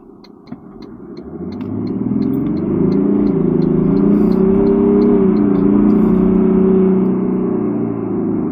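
A 2023 Toyota LandCruiser 300 Series Sahara's 3.3-litre twin-turbo V6 diesel swells from a low idle into a deep, rising drone under hard acceleration, holding a loud sustained roar to the end.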